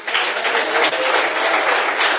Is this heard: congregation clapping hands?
yes